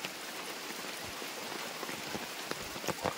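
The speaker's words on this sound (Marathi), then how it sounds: "आणखी पाऊस आलाय" Steady rain falling outdoors during crab fishing in the first monsoon rains, a soft continuous patter with occasional louder drops close by, no voices.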